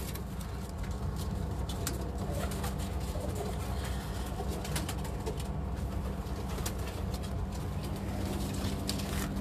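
Pigeons on a rooftop coo in low, repeated throaty calls amid dense background noise and occasional soft flutters, steady throughout.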